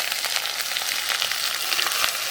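Ginger and garlic paste with whole garlic cloves sizzle and hiss continuously in a hot pan as they are sautéed, a dense, close frying sound with faint stirring ticks and no talking.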